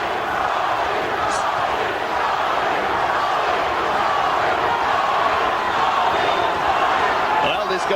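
Boxing arena crowd cheering for the champion late in a world title fight, a dense, sustained roar of many voices that holds steady throughout, with commentary underneath.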